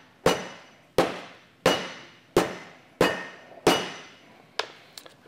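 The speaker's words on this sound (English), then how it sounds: "we'll simply gently pound it with a nice round meat mallet" A round meat mallet pounds a pork cutlet for saltimbocca, six evenly spaced heavy thuds about one per second, close and loud with short decays, followed by a few lighter taps.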